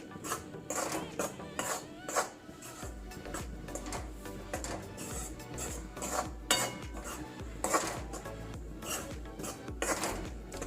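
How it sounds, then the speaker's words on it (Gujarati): Wheat flour is roasted over medium heat in a pan, a utensil scraping and clinking against the metal in a steady, repeated stirring rhythm, close and fairly loud throughout. "લોટને આપણે મધ્યમ તાપમાને શેકવાનો છે"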